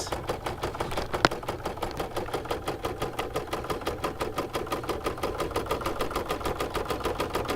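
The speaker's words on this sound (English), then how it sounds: "let you finish watching the last part of the bow stitch out" An embroidery machine stitches out the last part of an appliqué bow design in the hoop, giving a steady, fast, even needle rhythm that runs close and loud throughout with no talking.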